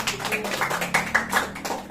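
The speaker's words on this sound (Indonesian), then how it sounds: "Oke, tepuk tangan dulu" A group of mothers at a parenting class claps hands together, a dense, steady patter of many palms at moderate loudness for a couple of seconds.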